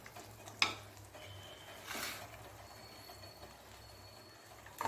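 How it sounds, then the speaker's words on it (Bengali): Peas sautéed with spices in a pan over a medium flame give a quiet, close stirring and scraping with faint sizzle, a sharp clink of utensil against pan near the start and a low hum underneath. "মশলার সঙ্গে মটরশুঁটিটাকেও একটু আমি কষিয়ে নেব যাতে মটরশুঁটির কাঁচা গন্ধটা চলে যায়।"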